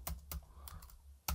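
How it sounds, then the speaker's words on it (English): Computer keyboard typing in a few quick, close keystrokes, separated by short pauses, with no talking. "now you can type your question here"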